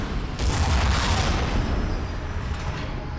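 Shooting in Transformers: Revenge of the Fallen against the Decepticon Devastator, a heavy booming blast followed by a sustained roar of fire and rumble, loud and continuous.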